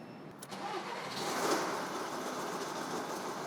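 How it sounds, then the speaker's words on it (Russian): A broken car air conditioner compressor with a loose, wobbling clutch runs under the hood, producing a steady mechanical clatter and rattling roar that swells after about a second and holds, close and alone. "На данном автомобиле мы слышим посторонний треск и грохот."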